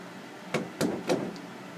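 Three quick knocks on a house door, close and sharp, spaced about a quarter second apart with a fainter tap after, no talking.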